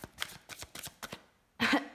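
A deck of oracle cards is cut and riffled by hand. About five quick papery flicks come in a row, then a short louder shuffle burst close by, with no talk.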